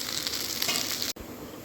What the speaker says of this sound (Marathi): आता तव्यावर तेल टाकून पॅटीस बनवून घेऊ